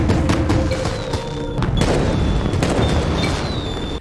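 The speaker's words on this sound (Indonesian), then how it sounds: "kembang api pertama dan kedua diledakkan" Fireworks bursting in a dramatic action scene, a dense run of loud booms and crackling blasts that keeps going with a few high whistles riding over it.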